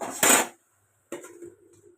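A metal lid clatters onto a cooking pot of pumpkin greens: one sharp bright clank, a short silence, then a second lighter clink as it settles, with faint rattling after, close by.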